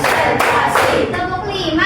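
A school class clapping hands together in a counted rhythm, a few firm group claps mixed with a voice speaking over them, close and loud.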